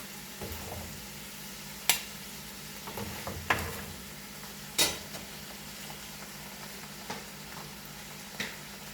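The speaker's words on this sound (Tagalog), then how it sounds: "Yan, igigisa lang natin saglit guys." Balbacua sautéing in a pot gives off a low, even sizzle, broken by scattered spoon scrapes and clinks against the pot at irregular intervals.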